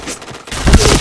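Rapid video-game gunfire bursts out as a short, loud volley of shots, close and punchy, lasting about half a second after a brief quieter lead-in.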